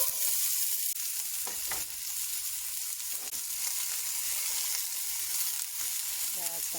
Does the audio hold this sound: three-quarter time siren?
no